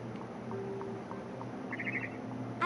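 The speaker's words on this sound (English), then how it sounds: "I heard chirping outside my window. It was a barn swallow going back to her nest." Brief chirps from a barn swallow returning to its nest in What Remains of Edith Finch, a short flutter of tweets late in the clip over a steady low ambient hum.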